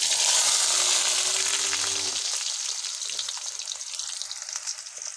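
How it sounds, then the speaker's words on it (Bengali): Potatoes frying in about 100 grams of hot mustard oil in a wok over medium heat: a loud, dense sizzle that settles into steady crackling and light popping, heard alone. "আমি এখন আলুগুলো বাদামি করে ভেজে নিতে হবে মিডিয়াম আছে।"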